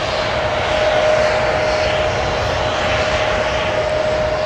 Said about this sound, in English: Another aircraft taxiing here.